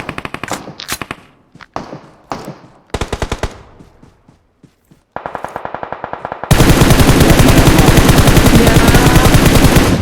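Rapid automatic gunfire from PUBG Mobile on the Livik map, loud close bursts of repeated shots, short volleys with gaps and then one long sustained stream of fire.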